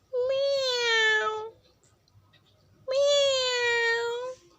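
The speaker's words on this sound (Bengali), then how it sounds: "মিয়াও" A cat gives two long, drawn-out meows, each lasting over a second, clear and close, separated by a short quiet gap.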